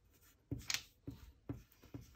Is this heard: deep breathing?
no